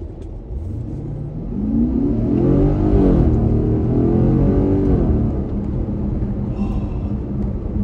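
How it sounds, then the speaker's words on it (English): A 2013 Porsche Cayenne GTS engine revs up hard during an acceleration run, its rising growl swelling through the gears, then easing back to a steady road rumble, heard from inside the cabin. "let me do one more acceleration run for you guys since you're here"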